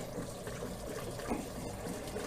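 Antifreeze pours into an RV toilet, producing a faint, continuous liquid trickle and gurgle that stays low and steady for the whole short stretch, with no talking over it.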